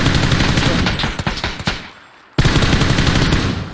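Gunfire in the video game PUBG: a loud, rapid automatic burst rattles out, thins into a few separate shots, falls briefly quiet, then another dense burst abruptly resumes.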